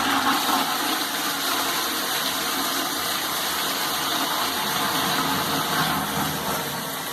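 A Dauntless high-level cistern toilet flushes with a steady, loud rush of water that pours continuously for several seconds, close by and without speech.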